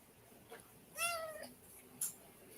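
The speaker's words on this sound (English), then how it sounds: "Was that your cat?" A cat meows indoors, one clear drawn-out call followed by a shorter, fainter chirp, close by against quiet room tone.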